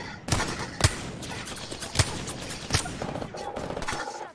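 Separate gunshots from Apex Legends on PS4, a battle royale match, cracking out one at a time at an irregular pace. They stand out loudly over a continuous bed of game noise.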